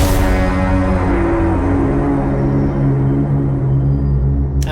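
Layered sound design for an animated short plays all together, a signature hit with complementary layers forming one dense, loud, sustained tonal bed that fades out at the end.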